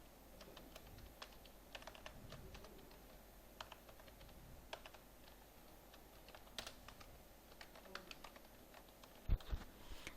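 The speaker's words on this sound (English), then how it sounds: "Then I am typing a name" Close, quiet clatter of keys on a computer keyboard, irregular bursts of keystrokes with a few louder taps, no talking.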